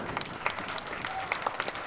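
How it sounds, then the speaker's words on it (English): Students clap for their parents at a school gathering, a short burst of scattered handclaps from a crowd, moderately loud, with a few sharper claps standing out. "let me ask students to give you a round of applause"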